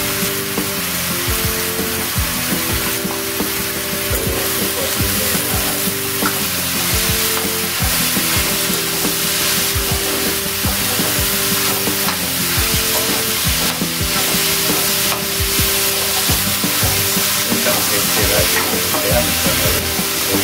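Small kardi shrimp fry and get stirred in a pan, giving a loud, steady sizzle broken by regular scraping stirs throughout.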